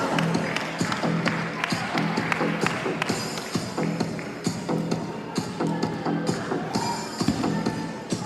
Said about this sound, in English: Can I get a round of applause for Afril